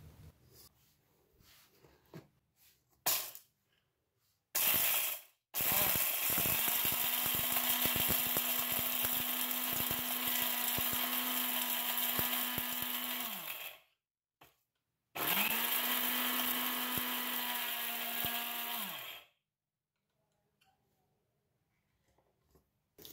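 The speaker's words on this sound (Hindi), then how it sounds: "अब इसमें बची हुई क्वांटिटी डाल के एक बार फिर से ग्राइंड करके देख लेते हैं।" A Glen mini spice grinder (SA 4045 NG) grinding black pepper runs in two loud, steady motor bursts of several seconds each, with brief clicks and pauses before and between them and near silence after.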